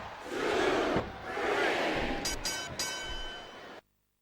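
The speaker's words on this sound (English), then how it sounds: "the crowd has come alive tonight with a chant directed at the superstars" Crowd roaring and chanting in the WWE SmackDown vs Raw 2007 wrestling video game, a loud continuous arena swell with a few sharp accents near the end before it cuts to silence.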